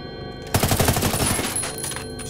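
Rapid automatic gunfire in the Ghost Recon Wildlands co-op game, a loud close burst of many quick shots starting abruptly after a half-second lull and trailing off into ringing.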